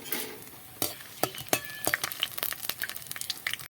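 Whole spices—cardamom, cloves, cinnamon, bay leaf, dried chilli—and cumin seeds sizzling in hot oil, with irregular crackling pops, spoon stirring and a few light metallic clinks, close and clear.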